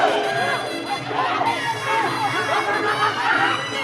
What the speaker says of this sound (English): You can see in the corners of Kaewkarnda and indeed Looktal are screaming for their fighters on here.